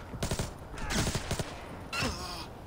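Bursts of gunfire from the Splinter Cell Blacklist video game come in three clustered volleys, loud and close, with rapid rattling shots.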